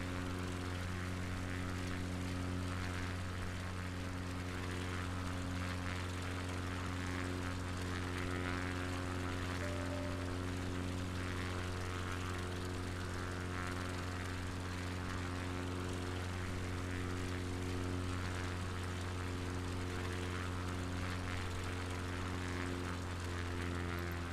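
Propeller aircraft on its landing approach along the UK coast, a steady droning engine hum with strong low harmonics holding level and continuous throughout, with no voices.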